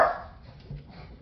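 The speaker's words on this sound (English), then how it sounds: "My dogs are going crazy." Dogs bark once, sharp and close, at the start, then a fainter yip or whimper follows over a quiet room.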